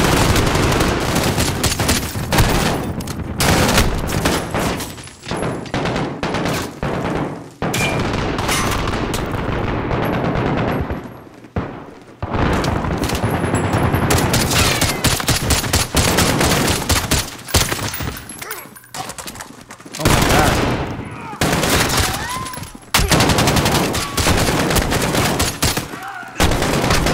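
Dense, continuous gunfire fills a Call of Duty Modern Warfare mission on Xbox One, with rapid automatic bursts and heavy blasts layered almost without pause, loud and close throughout.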